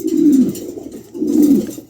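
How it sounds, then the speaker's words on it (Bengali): Two low, throaty coos from newly acquired pigeons in moult, close and fairly loud, separated by a short pause and with no talking. "একদম নতুন কবুতর আছে মল্টিংয়ে আছে"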